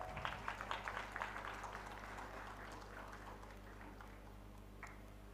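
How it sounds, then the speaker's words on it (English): Audience applause at the Global CSR & Philanthropy Summit 2025, faint and distant, with a burst of scattered claps in the first couple of seconds that thins into a soft, steady patter. "Please give him a huge round of applause"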